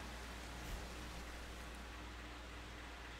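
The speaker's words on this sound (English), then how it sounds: "Why is all this rain over here?" Steady, faint rain in Metal Gear Solid 2 forms an even hiss of drops that runs unbroken, with a small tap near the start and a sharp click at the very end, and no voices.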